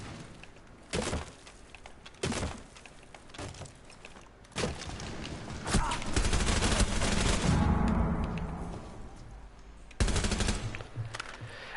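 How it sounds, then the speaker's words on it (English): Gunfire from another player in the video game Rainbow Six Siege: sharp isolated shots, then a sustained loud burst of automatic fire with clattering impacts, followed by more single cracks, with no talking. "The second I turned around, somebody started shooting at me."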